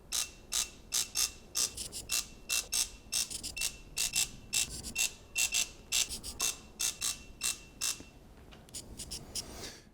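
Steady ratchet wrench clicking in quick rhythmic bursts while main cap bolts are torqued down on a supercharged Alpina B7 engine during a full rebuild, close and crisp with no talking.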